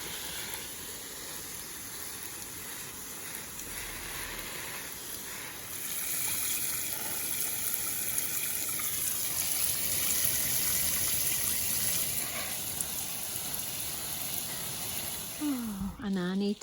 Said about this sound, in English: I've now got to water the garden.